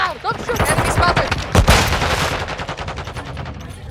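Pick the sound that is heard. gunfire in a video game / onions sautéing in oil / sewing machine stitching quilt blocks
gunfire in a video game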